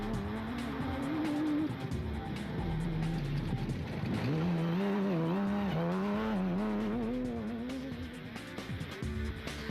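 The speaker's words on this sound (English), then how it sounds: "The first of the championship cars to get underway was the KEC bat of Johan and Sean van Staden" A KEC rally car in the Piet Plessis 200 championship race revs hard as it pulls away from the start, its loud engine note rising and falling through the gears for about ten seconds with no talk.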